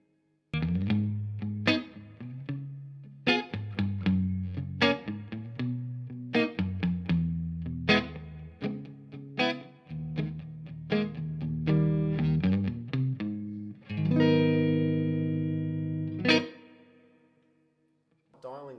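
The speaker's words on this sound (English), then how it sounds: "I've got the dwell up high and the reverb up high just so you could hear the extreme" Electric guitar through a tube amplifier with spring reverb and dwell turned high plays distorted chords and single notes, each attack trailing into a wet, splashy reverb tail, ending on a long ringing chord that fades out.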